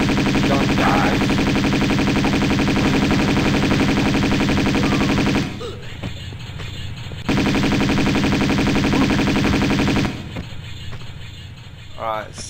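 Gunfire from a gunman in Tomb Raider II Remastered at Barkhang Monastery, firing on a monk, comes as dense sustained bursts that cut off twice, with game sounds continuing loudly in between.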